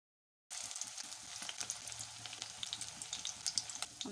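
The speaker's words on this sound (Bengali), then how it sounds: "গরম তেলে ফ্রাই করে নেব।" Small fish pakoras, coated in a spiced batter, frying in hot oil, a steady bubbling sizzle with crackling pops that starts after a brief silence, close but fairly quiet, with no talking.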